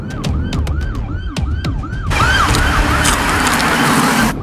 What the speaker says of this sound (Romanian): Opre sirena.